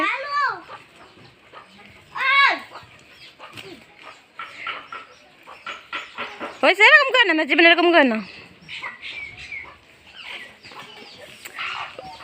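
Chickens cluck and cackle while walking about, several loud bursts of clucking scattered among people talking nearby.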